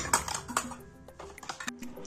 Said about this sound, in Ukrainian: Тепер накриваємо баночки кришками